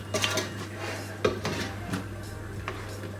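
Apples cooking with melted butter and sugar in a pan are stirred, giving a few clinks and scrapes of a utensil against the metal pan, close and quiet, with no talking.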